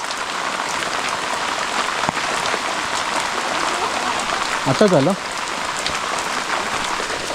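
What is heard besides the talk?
heavy rain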